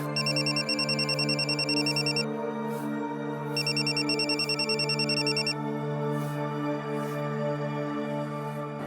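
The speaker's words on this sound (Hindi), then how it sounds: "ओ साहब फोन।" A telephone ringing indoors in a home, electronic trilling rings in two bursts with a pause between, moderately near over soft background music, no speech.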